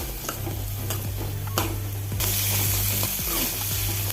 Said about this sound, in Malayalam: കോക്കനട്ട് ഓയിലാണ് ഒഴിച്ചത് വെളിച്ചെണ്ണ മുളകും കൂടി ഇട്ട്